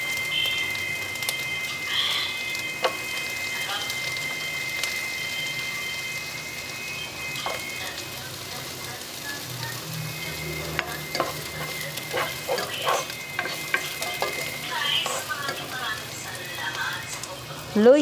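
Ginger stirred and sautéed with garlic in a new pot sizzles softly and steadily, with scraping stirs and clinks growing busier toward the end while a voice talks over it.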